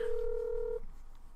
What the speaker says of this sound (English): it says I'm dialing him